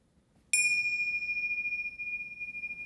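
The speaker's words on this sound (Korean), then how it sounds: "자, 종소리와 함께 한번 해볼게요." A meditation bell is struck once after half a second of near silence, ringing clear and loud, then sustaining with a slow, pulsing shimmer as it decays.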